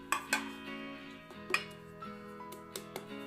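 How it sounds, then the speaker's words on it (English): A cake pan tapped to coat it with flour, several sharp metallic knocks spaced irregularly with brief ringing, close and fairly quiet, no voices. "Make sure to tap all the way around so that all of the sides and the bottom are completely covered with flour."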